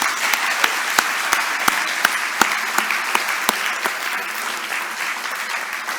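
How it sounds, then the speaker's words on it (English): Applause from the audience at an OECD tax certainty event hosted by the Netherlands for the winners, a sustained wash of clapping with a few sharp, distinct claps standing out at the start before it settles and fades slightly. "let's have a round of applause for our big winners"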